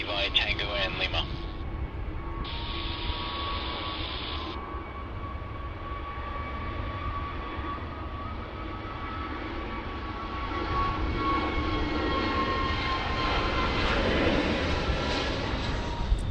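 An airliner lands on runway 16 right at Sydney Airport: a broad, steady engine roar with whining tones swells louder toward the end, with a voice faintly underneath.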